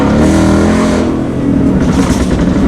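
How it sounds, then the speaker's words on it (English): Ford Mustang engine revving loudly at a supercar rally, a deep, sustained roar close by with rising and falling throttle, other road noise underneath. "You hear that? This Mustang's angry."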